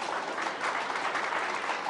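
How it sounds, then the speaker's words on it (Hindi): Applause from a seated audience during an election exit poll broadcast, a dense continuous clapping heard alone without any voices. "बैठी जनता की ये जो तालियों की आवाज है"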